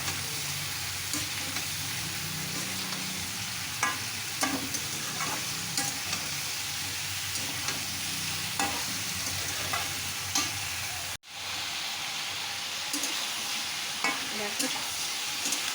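Cut sponge gourd sizzling steadily in a hot pan, with repeated scraping stirs at irregular intervals, close and fairly loud, a brief gap near the end, then the sizzle resumes.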